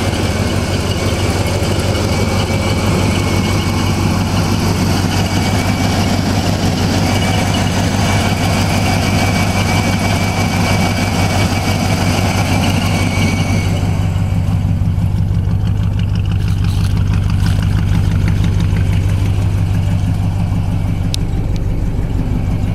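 A 1985 Oldsmobile Cutlass engine idles steadily after a cold start at ten degrees, a loud continuous low rumble that runs without a break, with no talking.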